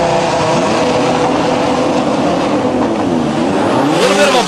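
An Audi RS3 drag car at a qualifying event runs loud and steady down the track, engine roaring continuously with harmonics that dip and rise near the end as it shifts.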